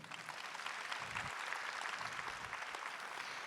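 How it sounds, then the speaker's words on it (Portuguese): Catholic congregation at a televised Mass clapping for TV Canção Nova, a steady, dense wash of applause that holds evenly from start to finish at moderate loudness. "Vamos aplaudir a TV Canção Nova?"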